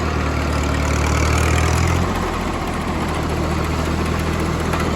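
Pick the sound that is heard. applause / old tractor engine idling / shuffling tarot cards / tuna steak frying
old tractor engine idling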